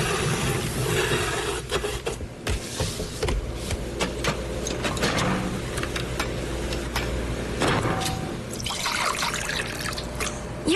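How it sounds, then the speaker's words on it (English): Orange juice is poured, a trickling, splashing stream of liquid running steadily for several seconds, with small drips and a faint mechanical hum beneath, no talking. "pour OJ this way"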